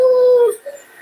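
A German Shepherd at an animal hospital during a bath and grooming gives one drawn-out high whimpering whine that breaks off, followed by a short soft whimper, close and clear with no talk.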